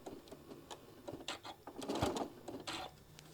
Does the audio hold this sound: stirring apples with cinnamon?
no